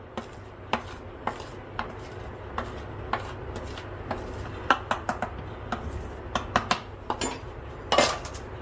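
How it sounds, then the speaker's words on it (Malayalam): Flour being mixed into plum cake batter in a bowl, with repeated scraping and clinking of a spoon against the bowl in an irregular rhythm, close and clear, no talking. "ഇനി നമുക്ക് ബാക്കി മൈദയും കൂടെ ഇട്ട് കൊടുക്കാം. കുറേശ്ശെ ഇട്ടിട്ട് മിക്സ് ചെയ്യണം"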